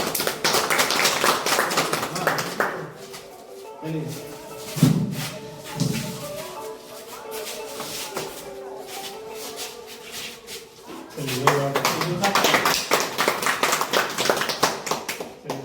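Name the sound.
applause at a meeting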